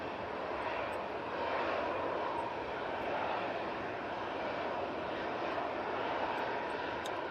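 An Embraer airliner lands at Manchester Airport in stormy weather, its engines giving a steady, loud broadband roar that holds level throughout with no voices.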